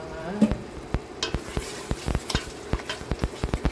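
Tomato sauce for creamy spaghetti cooks in a pan. A utensil stirs it in quick, regular scraping clicks over a light sizzle, close up and with no talking.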